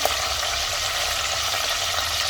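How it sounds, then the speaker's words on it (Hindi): Cauliflower and potato frying in a little oil over a high flame, a steady close sizzle with a constant hiss and no pauses. "तो हाई फ्लेम पर इसे फ्राई कर लेंगे।"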